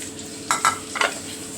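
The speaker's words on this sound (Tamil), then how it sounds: "ஒரு கடாயில் எண்ணெய் ஊற்றிட்டு நல்லா கொதிச்சிட்ட பிறகு சோம்பு, பட்டை, ஏலக்காய், கிராம்பு, கல்பாசியெல்லாம் போட்டுக்கலாம்" Whole fennel, cinnamon, cardamom, cloves and stone flower dropped into hot oil in a kadai give two quick bursts of crackling sizzle, then a smaller flurry, over a soft steady background.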